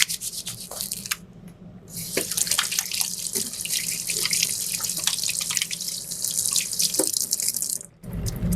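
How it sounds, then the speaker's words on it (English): Tap water runs into a sink while hands are washed beneath it, a close, steady hiss and splash broken by brief pauses as the flow is interrupted. "I'm just going to wash my hands"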